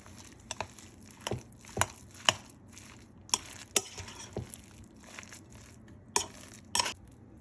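A potato mixture with Parmigiano Reggiano is stirred by hand in a bowl: quiet, irregular scraping and soft mashing, punctuated by a dozen or so sharp clinks of a utensil against the dish.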